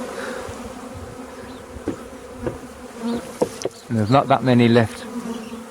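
A swarm of honeybees clusters on a tree branch, buzzing in a dense continuous hum close by, while someone talks quietly over it.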